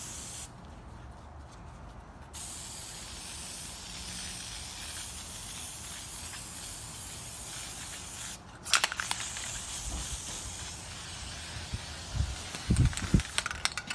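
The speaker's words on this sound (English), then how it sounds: "we have the whole air filter sprayed and cleaned" Cleaner sprays onto the air filter of a 2000 Suzuki RM125 dirt bike in steady hissing bursts close up, with a brief pause, then sputtering, uneven spurts near the end as the can runs low.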